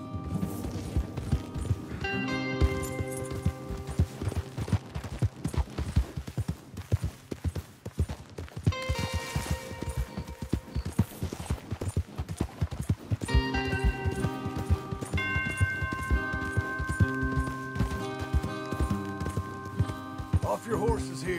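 Horses gallop in Red Dead Redemption 2, a steady clip-clop of hooves running under dense game music and spoken dialogue throughout.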